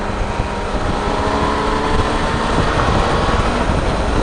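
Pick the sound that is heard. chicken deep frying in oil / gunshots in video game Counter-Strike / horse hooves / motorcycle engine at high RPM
motorcycle engine at high RPM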